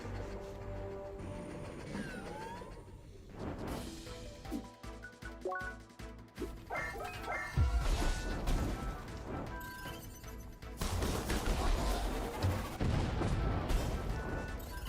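Missiles and explosions burst in the CrossCode video game with repeated booming blasts and crashes, layered over game music and effects, loud and dense through most of the stretch with a brief lull in the middle.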